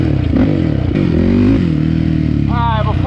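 A Yamaha YFZ450 quad's small engine revs loudly and steadily near the microphone, its buzzy drone rising and falling, with a voice breaking in briefly at the end.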